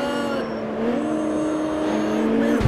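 A BMW E92 in the racing game CarX Street slides through a touge run, its engine holding a steady drone with tire noise underneath, and a sharper squeal near the end, while a player talks over it.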